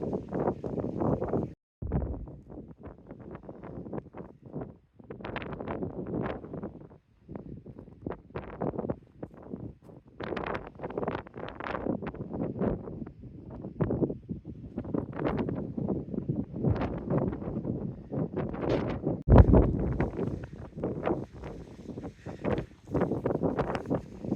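Wind buffets a granite climbing crag high in the mountains, roaring in uneven gusts with brief lulls, loud and close against the microphone.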